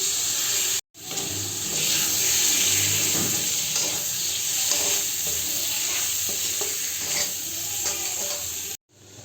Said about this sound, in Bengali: রাজমা আমার ভালো করে ফ্রাই হয়ে গেছে